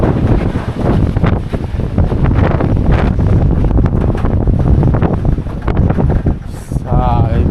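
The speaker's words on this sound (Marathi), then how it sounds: "बघता वारा डेंजर आहे. वारा वारा रे." Strong monsoon wind buffets the microphone at Rajgad Fort in heavy, roaring gusts that rise and fall continuously, loud and close throughout.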